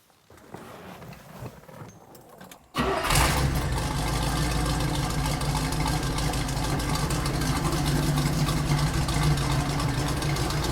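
A 1973 Camaro RS V8 is cranked and catches almost three seconds in, jumping from quiet background to a loud, steady, rumbling idle that continues to the end.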